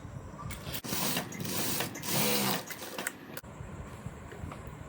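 A sewing machine stitches a blouse lining in a tailoring setting, a dense mechanical whir running in bursts with brief pauses, loud and close.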